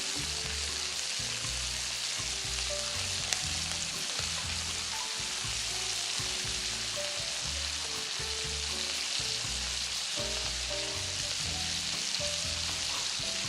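Steaks fry in butter in a hot pan, a dense crackling sizzle running steadily throughout with rapid popping spatter, close and loud, with no one talking.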